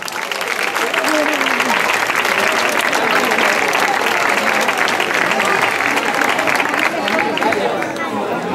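An audience at a variety-show evening bursts into loud, sustained applause for the performers coming on stage, a dense wall of clapping with cheering and crowd chatter mixed in throughout.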